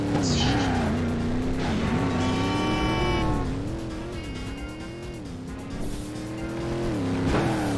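An engine in The Driver Syndicate racing game whines and rises and falls through gear changes, with sharp tire squeals layered over the loud, continuous driving noise.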